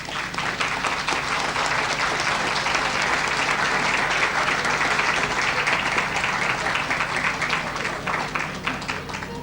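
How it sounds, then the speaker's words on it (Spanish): Audience at the 1997 Santa Fe book fair in Argentina applauding a new publisher, a loud, sustained roar of many hands clapping continuously with no speech over it. "yo le pido al público un aplauso para La Cortada por lo que está haciendo."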